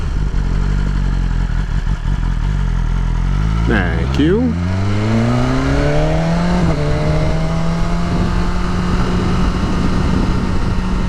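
A BMW S1000RR sport bike on the road gives a steady, loud engine drone that drops and climbs as it shifts gears, with heavy wind noise throughout and a brief voice.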